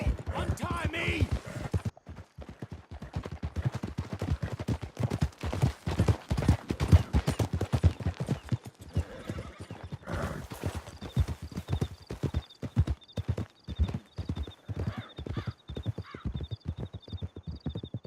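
Horses gallop in Red Dead Redemption 2, a steady rapid clip-clop of hooves with an occasional whinny, running close and loud throughout, with voices shouting over the riding.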